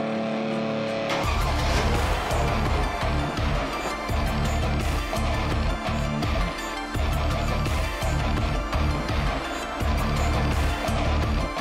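A car drives up onto car ramps, its engine rumbling and revving in short pushes, with tire squeal and scraping as the wheels climb, loud and close throughout.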